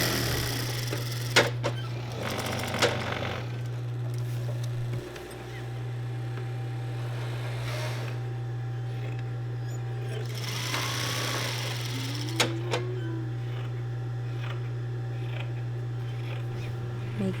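An industrial sewing machine stitches a metal zipper into a pillow with a loud, steady mechanical hum that runs almost without a break, apart from a brief pause, while light clicks and handling noises come and go.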